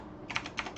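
A few quick keystrokes on a computer keyboard as a command is entered in a terminal, light clicky taps close by in a quiet room.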